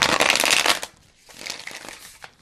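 A tarot or oracle card deck riffles in a dense, crackling burst, then quieter scattered flicks and taps follow as the cards settle.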